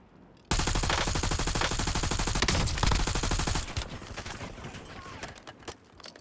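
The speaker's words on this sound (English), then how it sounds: "Taking shots." Rapid automatic gunfire in the video game Warzone, a dense sustained burst of shots that starts abruptly, rattles loudly for about three seconds, then thins into scattered, fainter shots.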